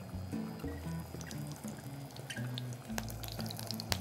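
Squid (chipirones) pieces spit and crackle in a hot pan as they release water, giving dense, irregular popping and sizzling over a low bubbling bed, fairly close and steady throughout.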